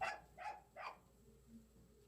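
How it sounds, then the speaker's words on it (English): A dog gives three quick barks in a row, fairly quiet and somewhat distant, followed by a softer brief whine. "I'm sorry for the barks."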